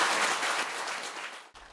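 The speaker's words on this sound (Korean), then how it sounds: "다 같이 박수를 한번 치고" Audience applause at a Buddhist foundation ceremony, a steady dense wash of many clapping hands held for about a second and a half before cutting off abruptly.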